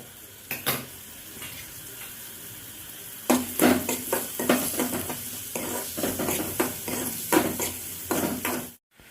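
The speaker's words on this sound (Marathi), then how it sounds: "त्यानंतर कांदा कांदा चांगला फ्राय होऊ द्या लाल होऊ द्या" Onion frying in a hot pan: a constant sizzle under repeated scraping strokes of a spoon stirring, close and fairly loud, with a brief pause before the stirring picks up again.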